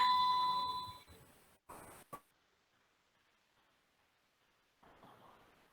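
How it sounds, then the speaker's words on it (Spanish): A mobile phone gives a short electronic alert tone, a bright beeping burst at the start that cuts off, followed by a few clicks and near silence. "Perdón por mi teléfono."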